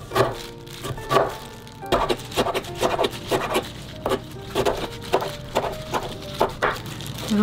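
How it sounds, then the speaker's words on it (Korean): Squeezed-out kimchi is chopped finely with a knife on a board: a quick, steady run of close wooden knocks and rubs repeating for several seconds. "잘게 이렇게 쫑쫑 썰어 주세요"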